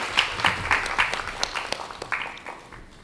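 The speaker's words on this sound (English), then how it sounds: "maybe we can just have one more round of applause for all of our knowledge holders and all of what they've shared" An audience at a climate dialogue event applauds, with a burst of claps that starts fairly loud and gradually thins and fades over about three seconds.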